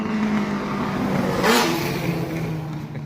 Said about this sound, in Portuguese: A moto é boa, silenciosa, assim é bom.